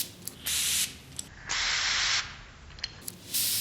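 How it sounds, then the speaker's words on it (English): A perfume atomizer sprays fragrance into the air in three loud, close hissing bursts, each lasting under a second, separated by short pauses with faint clicks. "As I've said, I spray this in the air."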